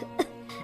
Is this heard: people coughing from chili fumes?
yes